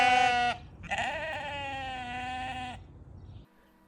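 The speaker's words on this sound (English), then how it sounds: "Freshly peeled sheep." A freshly sheared sheep bleats twice, close and loud: a short nasal cry, then a longer wavering bleat, followed by quiet.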